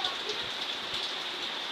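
Steady rain falling around a house in the hills, a dense, even hiss of drops on surfaces with no breaks, moderately loud and alone.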